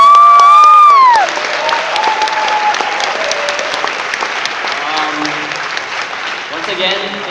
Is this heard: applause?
yes